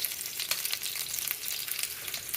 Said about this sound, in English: That's why I'm frying it.